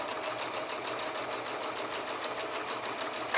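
A sewing machine stitches a fabric face mask in a steady, rapid run of needle strokes, close and continuous without a break, with no voices present.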